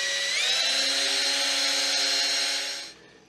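Power drill bores a hole through a roof-mounted solar panel frame for a mounting screw, a steady high whine running about three seconds at close range before winding down and stopping.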